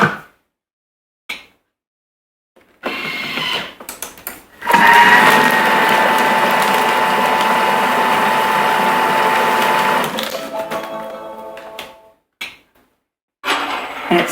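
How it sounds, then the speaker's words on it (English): A Thermomix mixes Greek yoghurt made with powdered milk: a few clicks and knocks as the lid goes on, then a steady whirring motor whine for about five seconds that cuts off, followed by more scattered clicks. "Now we're going to pop the lid on"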